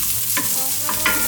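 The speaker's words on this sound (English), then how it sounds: "so we're just gonna start by frying off our onion." Onion frying in oil in a pan, a wartime ration-style dish: a close, steady sizzle broken by a few short scraping stirs of a utensil, with no voices.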